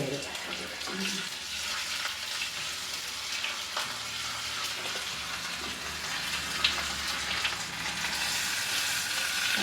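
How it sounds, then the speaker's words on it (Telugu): Hot oil sizzles and crackles steadily as spices fry, a continuous close hiss with occasional light stirring clatter. "ఆ పోపు ఏగుతుంటే వాసన వస్తుంది"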